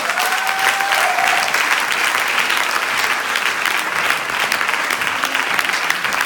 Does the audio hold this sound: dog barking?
no